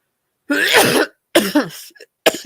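Several loud, close coughs in quick bursts, harsh and throaty, with short silences between them.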